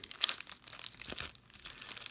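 Foil packs of 2019 Bowman's Best baseball cards being shuffled, giving close, quiet crinkling and crackling in irregular bursts with no speech.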